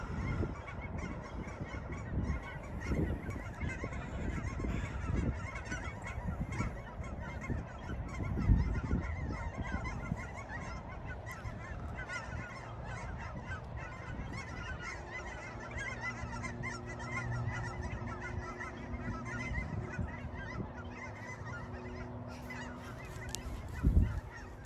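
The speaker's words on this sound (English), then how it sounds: "Let's listen to these birds." Geese honk repeatedly at a distance over a steady outdoor background, calls overlapping irregularly throughout.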